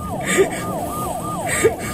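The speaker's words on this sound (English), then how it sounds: "the cop siren isn't supposed to be wailing yet." A police siren wails in Sonic Adventure 2 Battle, a rapid, repeating up-and-down electronic whoop cycling about every half second, loud and continuous.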